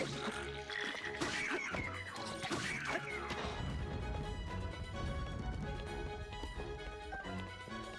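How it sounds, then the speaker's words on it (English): Objects get smashed in the video game The Legend of Zelda: Tears of the Kingdom, with several sharp crashing impacts in the first few seconds, then a busy, steady wash of game sound and music. "What else am I smashing here?"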